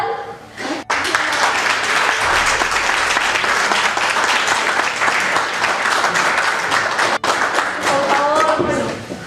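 Audience applause for the winner of a rural literary award, dense and loud clapping from a full room that runs almost the whole time, with a voice speaking over it near the end.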